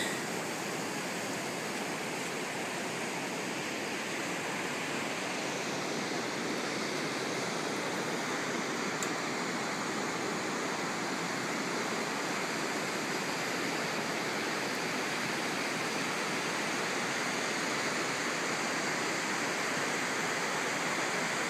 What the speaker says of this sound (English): There's the ocean as it meets the river, as it comes in